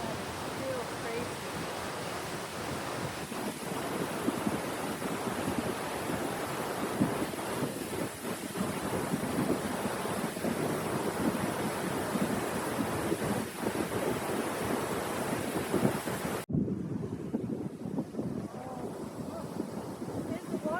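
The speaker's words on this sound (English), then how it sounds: "There's the waterfalls." Water rushes continuously near Skagway, Alaska, a loud, steady broadband roar that cuts off abruptly near the end.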